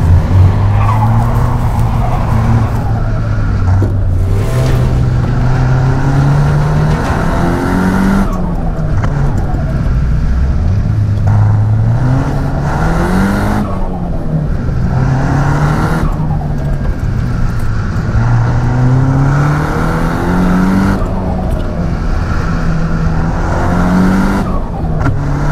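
A Nissan Silvia S15 Spec R engine revs hard through repeated gear changes, pitch climbing and dropping in steady cycles, loud and close with no talking.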